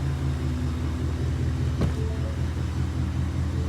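A supercharged truck engine, with a TVS 2650 blower on a 2019 F-series, idles nearby as a steady, deep rumble with a smooth, even beat, moderately loud and unbroken throughout, with no talking.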